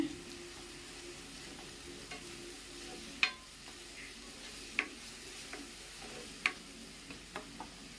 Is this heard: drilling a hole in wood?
no